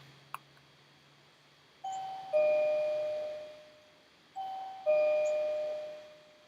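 A two-tone electronic doorbell chime rings twice, each pair of notes fading out slowly over a quiet background.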